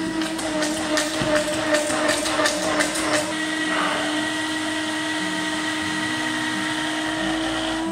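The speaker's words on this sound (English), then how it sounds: "I'm going to start to blend, and as I blend, I'm going to add in some oil" A countertop blender whirs steadily through thick vegan chocolate mousse, a loud continuous motor drone with a brief rattling churn at the start, running alone without talk.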